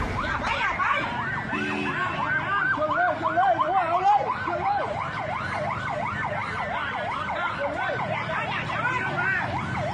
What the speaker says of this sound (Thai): มาแล้วครับรถตำรวจตอนนี้มาแล้วครับ